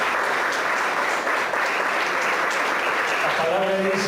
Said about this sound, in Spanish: Demos un aplauso al invisible.